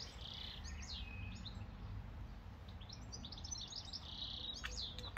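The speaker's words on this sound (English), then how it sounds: "Some lovely bird song." Birds sing in a spring garden among primroses, hyacinths and camellias, several high chirps and trills coming and going over a steady soft background hiss, fairly distant and quiet, with no voices.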